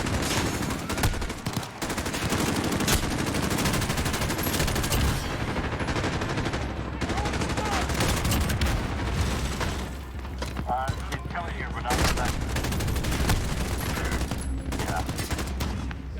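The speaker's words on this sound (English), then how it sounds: "Taking fire! We're just shooting rockets at me?" Intense video game combat with rapid gunfire bursts, booming rocket explosions and mechanical clatter, dense and continuous over a low rumble, with excited speech mixed in.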